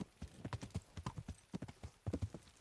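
Horse hooves clip-clop in a steady, quick rhythm on a road in the medieval game Kingdom Come: Deliverance, close and clear, alone with no talk.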